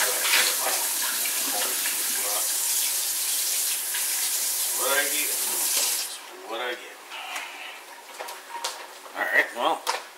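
Water runs steadily from a kitchen tap during chili cooking, a loud broadband rush that cuts off partway, followed by clattering and a voice speaking nearby.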